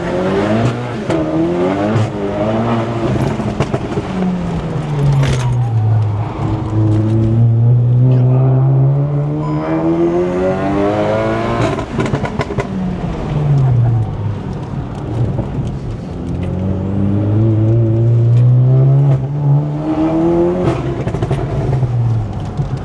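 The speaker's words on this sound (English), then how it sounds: "so we're taking him for a ride so he can see what a front wheel drive shitbox is like" A highly modified front-wheel-drive Volkswagen GLI laps a race track, its engine repeatedly revving up through the gears and dropping back, loud and close from inside the car, with brief tire squeal and no talk.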